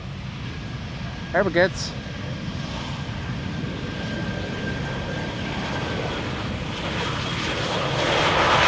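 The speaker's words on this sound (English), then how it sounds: "another KLM 737 arriving from Venice" A KLM Boeing 737 arriving at Amsterdam Schiphol, its engine roar a steady distant rumble that slowly swells louder toward the end, with a brief spoken phrase near the start.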